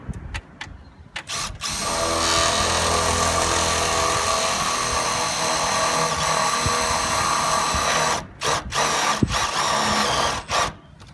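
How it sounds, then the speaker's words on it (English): A power drill whirs continuously at close range for several seconds, drilling into the center of a bracket while installing a water tank on a roof fascia, with brief starts and stops and a few clicks and bumps around the edges. "We're just going to basically drill in the center of that bracket."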